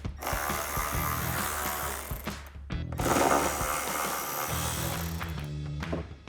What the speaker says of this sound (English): Ratchet and 10mm socket and take those out.